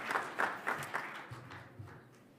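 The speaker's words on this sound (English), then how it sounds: "Could I please have one more round of applause for all of our signings, partnerships," Round of applause from an audience at the closing ceremony of the Global African Green Hydrogen Summit, with several bursts of clapping swelling and fading over a couple of seconds, moderately distant in a large hall.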